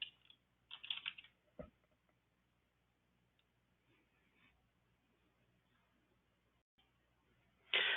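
Typing on a computer keyboard while entering a field name into a Salesforce report lookup, a short quick cluster of soft key taps, then a lone click and a near-silent pause before a brief louder burst of keys.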